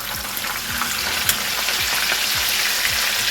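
Red snapper fish fries in a pan over high heat, a dense continuous sizzle and spatter close up, with a few soft knocks from the pan underneath and no talking.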